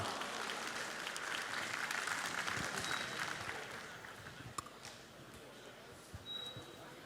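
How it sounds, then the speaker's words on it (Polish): Audience at a Silesian MMA gala in Zawiercie breaks into dense, loud applause that fills the hall, then gradually thins and fades toward the end, with a few sharper claps standing out. "Monika Kliś, raz jeszcze wielkie brawa"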